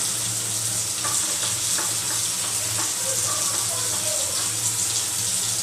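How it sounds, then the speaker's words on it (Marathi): Spice masala tempering in hot oil for a rustic village-style chicken curry, with a steady, close, broadband sizzle running throughout and a few faint stirring clicks, with no voices. "आता आपण मसाल्याला फोडणी देऊया."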